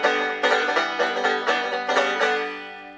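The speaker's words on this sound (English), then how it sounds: "This is a banjo, and it's a member of the percussion and the string family because it has strings" Banjo strummed and plucked up close, bright twangy chords ringing out in a quick, even rhythm of about a dozen attacks before the last one fades.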